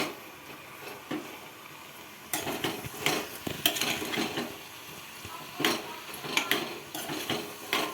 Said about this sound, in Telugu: స్టవ్ని హై ఫ్లేమ్లో పెట్టుకొని అలా ఒకసారి కలిపేసుకుందాం